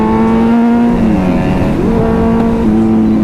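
Kawasaki ZX-10R sport motorcycle riding on an open road, its engine a loud, steady drone close by that dips in pitch briefly mid-ride and then climbs again, with no voices.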